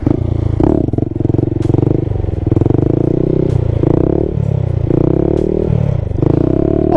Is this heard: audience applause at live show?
no